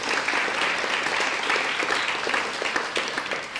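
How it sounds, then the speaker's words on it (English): Audience applause at a community partnership event in Anaheim: a dense, steady wash of many hands clapping, fairly loud and continuous throughout, with no voices over it. "Let's give them a round of applause."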